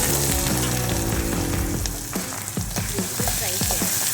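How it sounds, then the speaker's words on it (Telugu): Onion and green chili frying in hot oil for Bombay chutney, a steady loud sizzle throughout with occasional scraping and stirring clicks from a spatula. "ఫ్రై చేయాలి."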